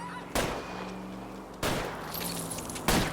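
Three sharp gunshots ring out at about one-second intervals in the video game L.A. Noire, over a steady car-chase engine drone and a honking tone.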